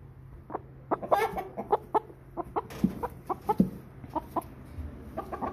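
A hen being held in hand clucks repeatedly in short, uneven bursts, close and clear over a low steady hum, with no talking.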